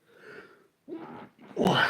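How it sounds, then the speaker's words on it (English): Single person's sneeze indoors: a short breathy intake, a brief pause, then a sharp, close burst, loud and alone. "I had to sneeze."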